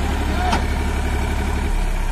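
A 2020 Massey Ferguson 245 50-HP tractor idles in a steady, low engine drone, close and continuous, with a brief faint clink near the start and no clear talk.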